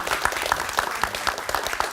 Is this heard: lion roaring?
no